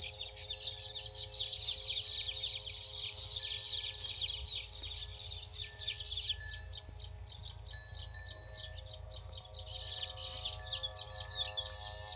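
Birds call and chirp steadily outdoors in open farmland grazed by livestock, with peacocks and other wild birds around, a dense layer of high twittering over a constant low rumble and no speech.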